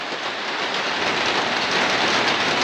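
Steady heavy rain drumming on a plastic roof, a dense continuous patter with no pauses and no voices.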